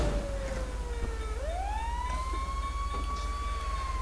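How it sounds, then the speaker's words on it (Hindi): Fire engine siren in the GTA 5 video game, a steady wailing tone that dips and rises again over a constant low engine rumble, with no talking. "तो यहाँ फायर ब्रिगेड की गाड़ी आई हुई है आग बुझाने के लिए भाई"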